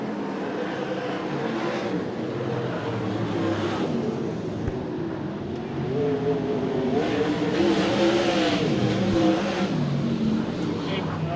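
USAC/CRA sprint cars race at Hanford, their engines a dense, roaring blur that rises and falls as they sweep through the turns, with an announcer's voice running over the noise.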